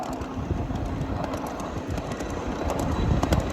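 A 7.5-inch gauge miniature flat/tank car rolls steadily along a mainline track, giving a continuous close rumble with faint rhythmic clicks from the wheels, and no voices.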